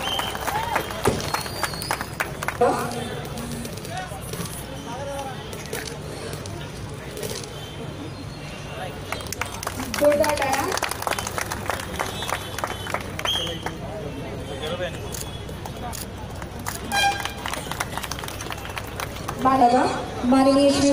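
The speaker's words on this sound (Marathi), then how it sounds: "टाळ्या जोरदार वाजल्या पाहिजे" Clapping from a crowd at a showroom inauguration, a sustained patter of many hands swelling in bursts, mixed throughout with a voice over a loudspeaker.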